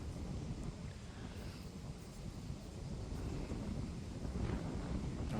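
Strong wind gusts across an open golf course during a tournament, a continuous low rumbling roar buffeting the microphone steadily throughout, with no other clear sounds over it.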